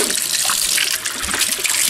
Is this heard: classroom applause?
no